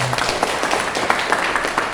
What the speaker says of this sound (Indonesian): tepuk tangan bapak ibu semua